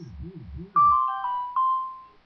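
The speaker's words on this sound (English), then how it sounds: "Sorry, that was my phone." A mobile phone ringtone chimes a short run of four bright electronic tones, loud and close, following a brief bit of low speech-like sound at the start.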